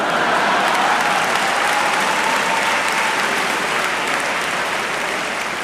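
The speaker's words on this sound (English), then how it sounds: "You shouldn't be applauding." Loud, sustained applause from a graduation crowd at Walter Payton College Prep, dense clapping that continues evenly and fades slightly toward the end.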